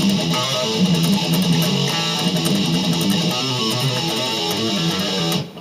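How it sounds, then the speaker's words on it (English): Electric guitar speed picking on the palm-muted open sixth string in a metal riff, a loud, dense, chugging run of fast, evenly chopped notes with no talking. "You're going to be speed picking this and palm muting this 6th string."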